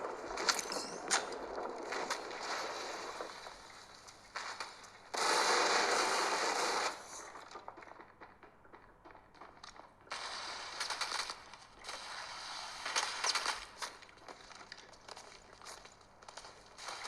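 Gunfire in the mobile video game Apex Legends Mobile, heard as sharp bursts and scattered shots mixed with mechanical clicks and effects, fairly faint, with a dense loud burst partway through and no talking.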